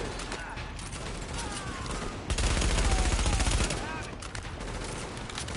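Gunfire in The Division video game, with rapid automatic fusillades and scattered shots over a busy game soundscape, peaking in a loud dense burst midway. A player speaks over parts of it.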